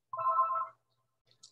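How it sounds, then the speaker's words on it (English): A single short electronic telephone ring sounds close and clear, a steady tone lasting about half a second, followed by silence and a faint click. "our phone was just started ringing"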